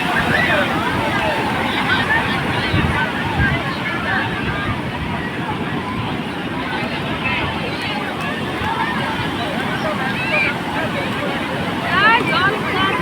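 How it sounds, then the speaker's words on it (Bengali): Sea waves rolling in one after another onto Puri beach, a continuous surging wash of surf close by, with crowd chatter and people talking over the water. "একটার পর একটা ঢেউ কিন্তু চলে আসে, সুতরাং খুব সাবধান সমুদ্রে নেমে।"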